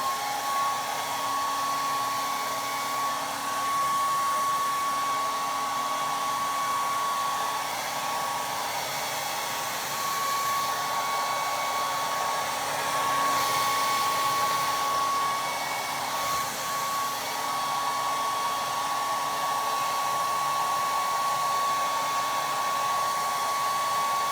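A handheld hair dryer blows steadily while hair is dried with a round brush at home, a loud continuous whir with a whistling tone that holds for the whole stretch, slight shifts as the dryer moves, no voices.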